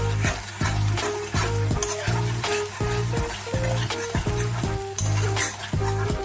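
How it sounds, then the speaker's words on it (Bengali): Food with a pinch of sugar being stirred in a hot pan for a chola paneer dish, steady sizzling with repeated rhythmic scraping strokes, close and fairly loud, no talking. "এটাকে নাড়তে হবে"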